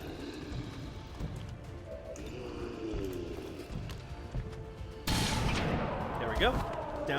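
A shard gun fires in XCOM 2 at close range, a sharp burst cutting in late over busy game noise and ongoing talk.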